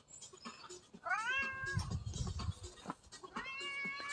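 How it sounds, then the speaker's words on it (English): A cat called Fernando meows loudly and repeatedly on a farm, two drawn-out rising meows close by, with other farm noise in the background. "Man, Fernando is just meowing his face off today"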